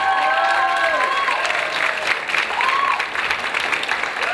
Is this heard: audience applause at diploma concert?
yes